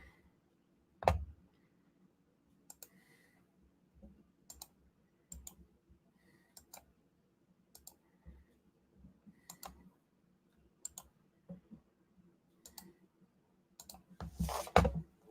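Sparse keystrokes on a computer keyboard, scattered individual clicks and short bursts of typing with pauses between, close but quiet.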